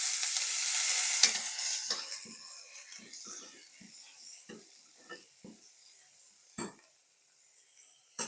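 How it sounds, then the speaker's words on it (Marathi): Soaked, drained basmati rice being stirred in ghee in a pan: an initial hiss of sizzling that fades, followed by scattered scraping strokes of a spoon against the pan, close and fairly quiet, with no talking. "हा आपण हलकासा 2 मिनिटं परतून घेऊयात तुपावर."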